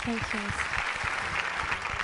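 An audience applauds a kids' dance performance on a dance show, with broad clapping under a voice that speaks briefly at the start.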